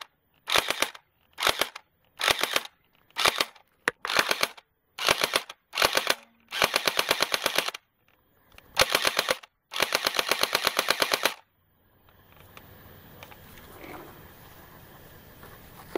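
A P90-style water gel blaster gun fires in repeated full-auto bursts of rapid clicking shots, loud and close, separated by short pauses, then gives way to quiet room noise at the end.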